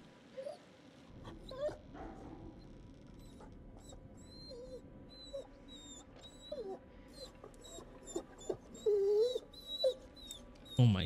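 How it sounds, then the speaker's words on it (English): A dog in a horror video game whimpers and yips faintly in short, high, broken cries over a quiet ambient background, with occasional low sounds and brief talk. "It's a dog in there."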